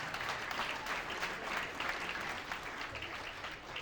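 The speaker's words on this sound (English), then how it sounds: "Everybody, come on, give me a round of applause." Faint, distant applause from the crowd at a Christian battle rap event, a continuous even patter of clapping that holds steady throughout.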